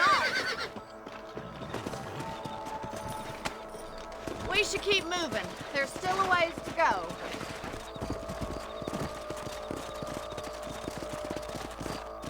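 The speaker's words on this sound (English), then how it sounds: "Let's get back on the horses and see what else is going on." Horses' hooves clip-clop in Red Dead Redemption on PC, a steady trotting rhythm with a whinny partway through, running under a voice speaking.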